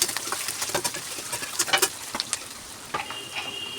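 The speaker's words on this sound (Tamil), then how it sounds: "நல்லா வதக்கி விட்டுக்கணும்" Four large onions sautéing in a pan for vermicelli upma, a continuous close sizzle broken by scattered crackles and the scrape of stirring, with no voices.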